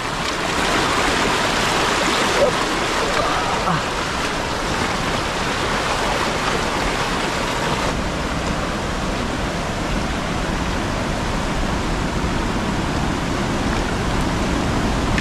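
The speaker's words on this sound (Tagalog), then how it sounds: "Pero hindi naman masyadong malakas yung baha mga kaprobinsya, oh." Floodwater flows in a steady, broad rushing wash in a provincial neighborhood, continuous and fairly loud with no talk over it.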